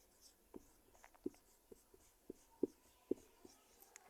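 Pen scratching on paper while a maths solution on determinants is written out, a steady series of short taps and strokes, close and quiet, with no talking.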